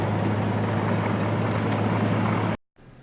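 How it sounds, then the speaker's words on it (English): Strong wind blasting sideways through a small town during cold snowfall: a loud, constant roaring rush with a steady low hum, cutting off abruptly near the end, without talk. "the wind is blasting right sideways through town"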